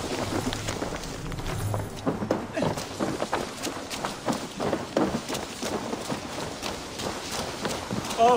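Horse galloping in Assassin's Creed Valhalla, a steady run of hoof clip-clops beneath game music and ambience, with a voice speaking briefly near the start.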